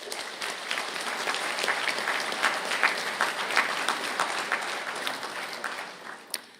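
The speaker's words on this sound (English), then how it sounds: "I ask graduates of the Higher Diploma in the Business Analytics programme to stand for a round of applause" Audience applause rings out for business analytics graduates standing at a college conferring ceremony, a sustained, even round of clapping from a large crowd that swells and then tapers off near the end.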